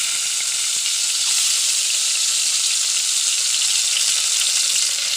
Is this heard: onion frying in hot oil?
yes